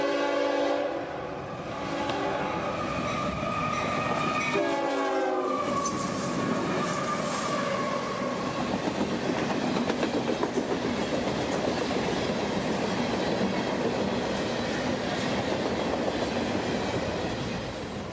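A CSX intermodal freight train rolls north past a siding on the Florida mainline, with a loud horn blast near the start followed by continuous wheel rumble and clickety-clack close by.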